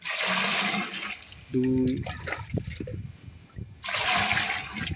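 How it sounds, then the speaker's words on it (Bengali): Water from a ten-litre measure splashes and pours into a container in broad bursts, with quieter trickling gaps between them, while a man counts aloud in Bengali over the sound. "দশ লিটার জল এখানে আমি দিয়ে দিচ্ছি।"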